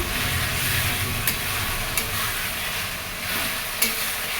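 Spices for chicken curry sauté in hot oil with a loud, continuous close sizzle, punctuated by a few sharp scrapes and clicks of a spoon stirring the pan.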